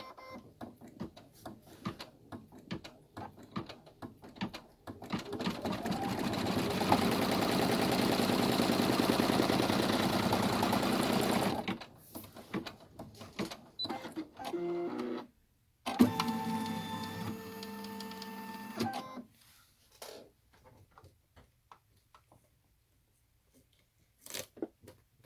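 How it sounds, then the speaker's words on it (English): A sewing machine stitches a double-zip splash bag, running steadily for several seconds, pausing, then resuming in a shorter burst with a clattering, higher-pitched whir before stopping. "now it's going to sew from here down to the bottom"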